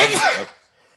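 A single sharp sneeze close to the microphone, bursting loudly and then quickly fading to near silence.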